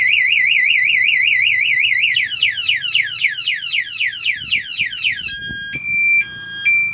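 A loud electronic motorcycle alarm cycles through patterns: rapid warbling, then swooping chirps, then steady alternating beeps, with faint clicks underneath.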